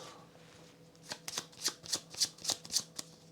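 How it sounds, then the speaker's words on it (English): A deck of board game cards is riffle-shuffled close up, a quick run of about eight crisp flutters following a quiet start, with no talk. "I'll shuffle that."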